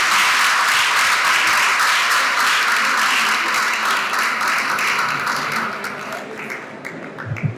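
An audience at a scientific closing ceremony applauds Magali Rosemont with sustained, full clapping that thins out and fades toward the end.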